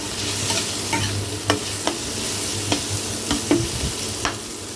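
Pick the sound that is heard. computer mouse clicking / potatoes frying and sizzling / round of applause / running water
potatoes frying and sizzling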